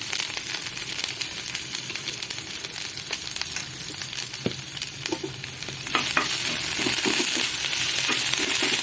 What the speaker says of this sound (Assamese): এইখিনি অলপমান লাৰিম, 2 মিনিটমান লাৰিম আমি